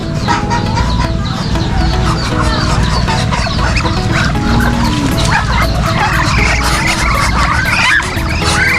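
A noisy barnyard chorus of ducks calling and squawking continuously up close, with a dog barking among them and a low hum underneath.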